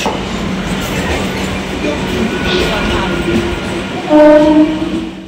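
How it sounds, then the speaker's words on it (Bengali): A Sealdah local passenger train with ICF coaches rumbles into Dankuni station with clattering wheels and a loud horn blast near the end, a voice faintly audible beneath. "চলে এসেছে Dankuni town, Sealdah local, ICF coach."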